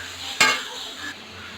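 Chopped large tomatoes tipped into a pan of sizzling masala, giving one sharp clattering plop followed by a steady frying hiss, with a brief scrape near the end and no talking.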